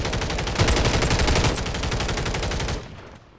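Rapid automatic gunfire from a first-person shooter video game rattles in one sustained, loud burst for nearly three seconds before cutting off.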